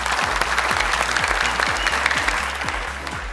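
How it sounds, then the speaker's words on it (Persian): A studio audience applauds on a Family Feud-style game show, loud dense clapping that runs steadily for several seconds with no voices over it. "برای شما امتیاز آمده، شما باید زیاد کف بزنین."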